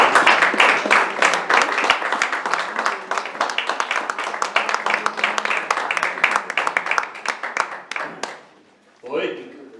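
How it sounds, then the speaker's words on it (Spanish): Crisp, rapid hand clapping from an audience at a poetry evening, keeping up for about eight seconds before fading out, after which a voice briefly speaks. "Un aplauso para él."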